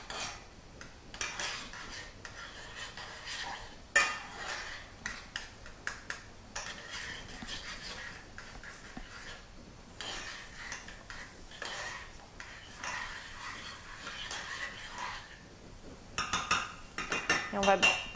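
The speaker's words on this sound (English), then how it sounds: "I'm just going to stir it a little." Butter melts in a pan as a utensil stirs it, giving faint scraping and light metallic clinks at an uneven pace, fairly quiet and close, with occasional louder knocks against the pan.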